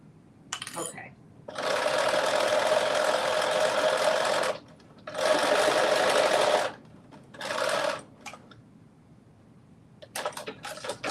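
Sewing machine running a basting stitch, in three sustained whirring bursts of a few seconds each with short pauses, followed by light clicks.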